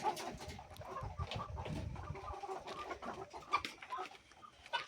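Layer hens on a farm cluck in a busy, overlapping flock, with soft clucks and calls scattered throughout and a few louder close squawks standing out.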